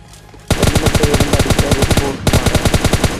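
Loud gunfire from a mobile shooter game, with AWM sniper and M4 rifle shots. A burst of rapid, evenly spaced shots is followed by a short gap and a second rapid string, close and dry.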